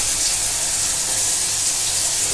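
Garlic and green chilies frying in mustard oil, a steady close hiss and sizzle that is loud and continuous without pause.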